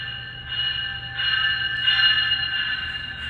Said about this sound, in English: there's a GO train arriving.